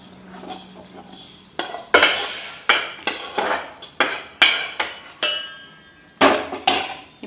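Semolina being roasted in a pan, with a spoon scraping and clinking against the metal in repeated loud strokes, each followed by a short settling rustle, and no voices.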